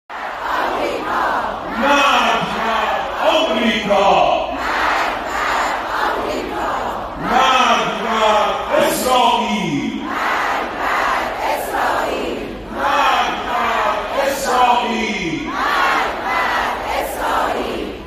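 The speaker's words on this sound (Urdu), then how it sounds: "اسرائیل اور امریکہ کے خلاف نعرے بازی ہو رہی تھی" A large crowd of Hajj pilgrims chants slogans against Israel and America, loud rhythmic shouted phrases repeating in waves throughout, dense massed voices with cheering between bursts.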